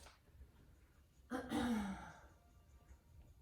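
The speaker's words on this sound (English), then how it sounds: "Take a few deep breaths." A single deep, quiet breath during a yoga standing pose, a soft inhale swelling into a longer audible exhale in an otherwise near-silent room.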